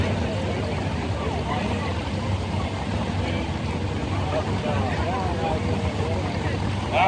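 Turbocharged light limited tractor roaring steadily through a pull run at a Libertytown, Maryland event, a loud continuous engine drone with rising and falling pitch sweeps, carrying on throughout with crowd and announcer voices underneath.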